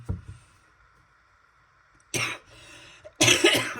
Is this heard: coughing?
yes